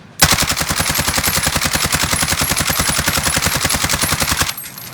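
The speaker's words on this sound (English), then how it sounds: "I'm gonna just shoot out a full magazine with just shooting to one spot" A full magazine of automatic gunfire from Call of Duty Warzone, sustained at one spot: a loud, rapid, evenly spaced burst of shots lasting over four seconds, then stopping abruptly.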